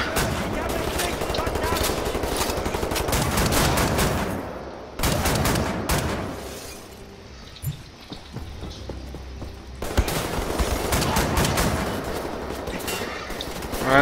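Gunfire in the video game Wolfenstein The New Order: loud, rapid automatic bursts and shots that keep going, fall into a quieter lull partway through, then resume at full intensity.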